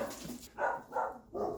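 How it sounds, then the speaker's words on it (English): Several dogs bark in a few separate bursts nearby during a home car wheel alignment job, each bark loud and short with brief pauses between, and no talk over them. "Dogs doing their thing."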